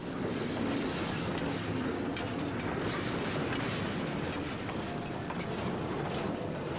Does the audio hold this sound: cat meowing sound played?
no